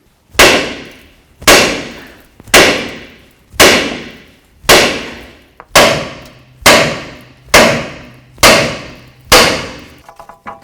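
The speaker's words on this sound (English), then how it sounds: "carefully bonk on the knuckle and try to separate the ball joint from it" Ten loud, evenly spaced metallic hammer blows strike a steering knuckle on a 2007-2017 Ford Expedition to free the ball joint, each bang ringing briefly before the next, close and with no talk.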